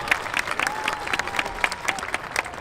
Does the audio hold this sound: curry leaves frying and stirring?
no